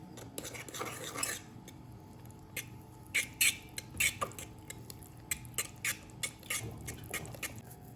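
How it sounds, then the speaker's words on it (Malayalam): A spoon stirs thick rice flour dough in a pot while making sweet kozhukkatta. It produces soft, irregular scraping and tapping clicks, quiet and close, in uneven bursts with no talking. "ഇനി ഒന്ന് നന്നായിട്ടൊന്ന് ഇളക്കി കൊടുക്കാം."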